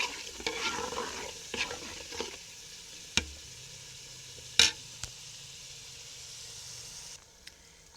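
Tomato mix frying in oil for jollof rice, a faint steady sizzle with occasional stirring scrapes and a few sharp utensil clicks against the pot, no voices.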